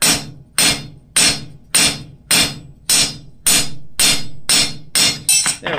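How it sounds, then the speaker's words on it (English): A blacksmith bounces a forging hammer on metal at an anvil, about a dozen ringing strikes in a steady rhythm, each with a short decaying clang, loud and close. "I'm just trying to take and bounce the hammer."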